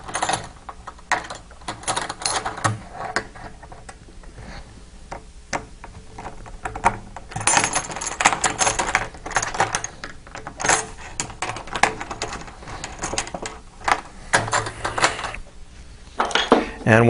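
Metal bolts and nuts being tightened while assembling an OvoControl feeder, with irregular clinks, rattles and ratcheting clicks in bursts, close by, and some talking mixed in.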